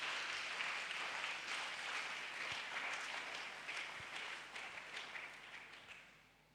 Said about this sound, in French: Míaƒo asikpe na Aƒetɔ la.